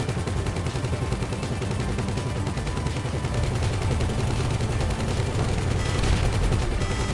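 Sustained, dense gunfire from several weapons during a heist in GTA Online, rapid automatic bursts overlapping into a loud, continuous barrage with no pauses and no talk.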